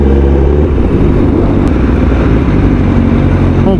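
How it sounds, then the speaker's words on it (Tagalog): Honda Rusi RRR motorcycle riding slowly through road traffic, a steady loud engine drone with wind rumble close to the microphone throughout, no talking. "naabot kami ng traffic"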